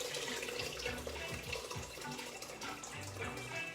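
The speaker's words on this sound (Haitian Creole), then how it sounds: "On va juste ajouter de l'eau." Water being added to a cooking pot while making labouyi farine porridge, a faint gushing pour like a tap running, continuous with gurgling variations and no talk.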